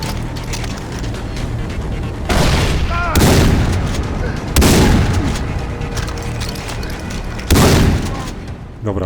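Explosions in Far Cry 3 on PC, four loud booming blasts spaced a second or two apart over a low, steady rumble of game ambience, with no voice on top.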